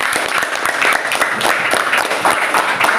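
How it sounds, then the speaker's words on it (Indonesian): Classroom students applaud together in a dense, steady burst of many hands clapping, close and fairly loud throughout, with no talking over it. "Tepuk tangan dulu"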